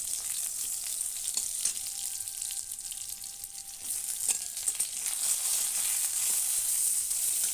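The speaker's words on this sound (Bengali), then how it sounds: "আমটা তুলে দিলাম তেলের মধ্যে, একটু ভাজা ভাজা করে নেব" Mango pieces fry in oil with a dense, steady sizzle that swells slightly midway, holding close and continuous with occasional small crackles and no voices.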